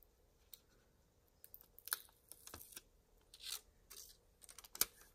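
Faint, close crinkling and tearing as stickers are peeled off and laid down in a paper planner, a scattered series of short papery rips and taps in an otherwise quiet room.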